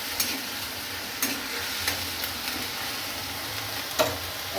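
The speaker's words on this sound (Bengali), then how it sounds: "পেঁয়াজ বাটাটা একটু ভাজতে সময় লাগবে" Onion paste frying in a pan over a lowered gas flame gives a steady, dense sizzle. Occasional stirring scrapes break in at intervals, with no voices.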